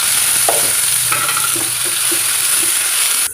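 Steady sizzling and frying of onions and tomatoes in a pan for sambar, with a few soft stirring scrapes and clinks, continuous and close, with no talking.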